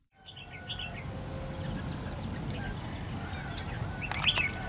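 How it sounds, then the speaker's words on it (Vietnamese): Red-whiskered bulbuls give short, bright chirps over a steady outdoor rumble, with a few clearer calls close by near the end. "Bắt đến, chim bắt đầu đến rồi anh em."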